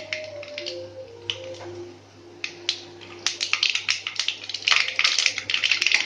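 Rapid, irregular crackling pops of mustard seeds spattering in hot oil, growing denser toward the end, with a low steady hum beneath.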